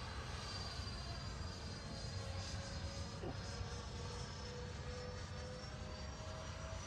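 Freewing MiG-29 model jets fly overhead at half throttle, giving a steady whining ducted-fan drone that holds at a moderate distance without talk.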